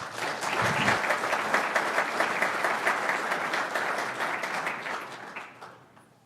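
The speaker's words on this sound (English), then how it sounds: "I'll give these guys a round of applause" An audience claps for the presenters at a bridge inspection basics session, a dense, even burst of applause that holds for several seconds and then fades out.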